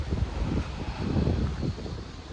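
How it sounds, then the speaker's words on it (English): Strong wind gusts buffeting the microphone on a windy lakeside fishing spot, a loud, continuous low rumble that swells and eases, with no talk. "that wind has got right up. There's a gust up to like 64 miles an hour today"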